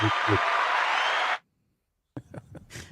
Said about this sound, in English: My attempt at cheesy applause there.